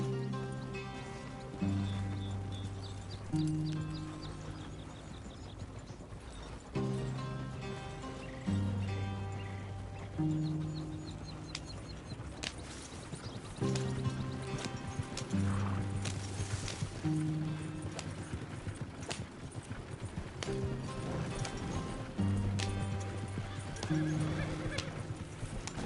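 A horse in the video game Red Dead Redemption 2 moves with rhythmic, fairly soft clip-clopping hoofbeats over a long stretch, while game music plays with repeating tonal phrases.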